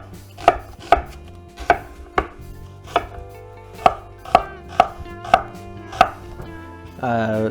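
A knife chops through a large green onion on a cutting board in about ten crisp, evenly spaced thuds, followed by a short rustle at the end.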